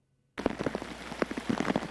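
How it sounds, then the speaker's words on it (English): Heavy rain from a Southern California storm pelts down after an abrupt start, a dense, steady hiss of drops with scattered louder splatters, close and unbroken. "2 inches of rain in just 3 hours. Pelting Southern California."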